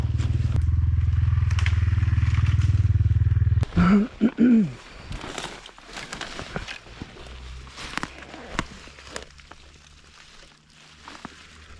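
KOVI Lite 300 enduro motorcycle ridden off-road through bushes, a loud steady engine drone that cuts off abruptly, followed by revving bursts, then snapping branches, rustling and scattered knocks while the engine idles low.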